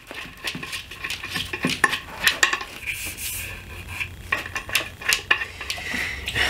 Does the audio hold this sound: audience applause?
no